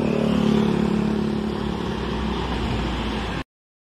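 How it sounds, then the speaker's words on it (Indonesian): An STJ Genoka bus on a Mercedes-Benz front-engine chassis with a Discovery 3 body, its engine a loud, steady, close rumble with a slight fading hum, then cutting off abruptly. "ada STJ Genoka dengan sasis Mercedes-Benz mesin depan, teman-teman. Menggunakan bodi Discovery 3"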